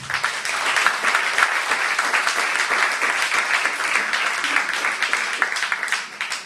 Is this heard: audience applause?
yes